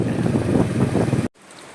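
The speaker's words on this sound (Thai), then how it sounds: "โอ้ตากฝนอีกแล้ว งานนี้" Steady rain hisses loudly and evenly in northern Laos near the Chinese border, then cuts off abruptly after about a second, leaving only faint background noise.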